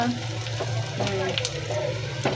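Chopped onion frying in oil with a bay leaf and black pepper, a steady close sizzle with light stirring scrapes, and a voice talking briefly over it.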